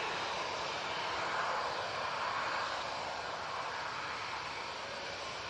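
A Boeing 787 Dreamliner at Manchester Airport gives a steady, fairly faint, distant broad engine roar that stays even throughout, without talk.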